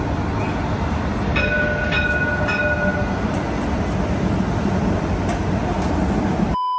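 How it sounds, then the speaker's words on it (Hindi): A Dubai tram runs along its rails with a loud, steady rumble and rushing noise throughout, with faint high squeal tones from the wheels early on before it cuts off abruptly. "ये देखो, ये है वो ट्रैम जिसमें हम आए।"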